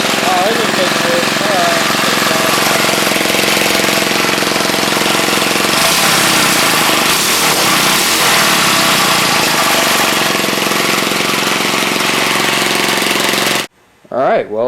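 A small engine converted from a vertical to a horizontal shaft runs loud and steady at close range for a long stretch, occasionally revved near redline, then cuts off abruptly near the end.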